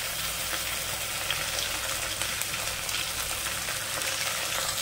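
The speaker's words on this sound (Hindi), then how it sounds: "तो इसको भी और साथ में हम चलाते हुए भून लेंगे" Onion and garlic sizzle steadily in a hot pan as they are stir-fried, a constant close frying hiss with no talk over it.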